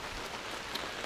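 Rain falls in a soft, even patter, faint and continuous for a brief moment, with no voices.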